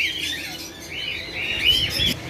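Small caged songbirds, priced for sale at the Tollinton bird market in Lahore, chirp and twitter continuously at close range, a busy overlapping stream of high calls with no voices.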